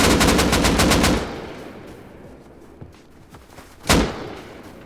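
Rapid bursts of automatic gunfire in the video game Rust, starting as a loud fast rattle of shots, then scattered quieter pops and one final loud crack.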